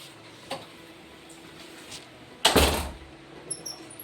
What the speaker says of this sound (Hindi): तो मैं पहले ये दरवाज़ा बंद कर देती हूँ।